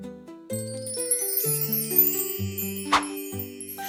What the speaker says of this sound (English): The bell goes ding, ding. Shake the bell.